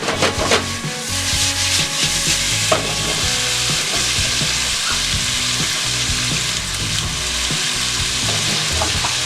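Tofu sizzles loudly in a pot while being tossed, with continuous frying crackle and repeated scraping, stirring strokes up close, and no voices.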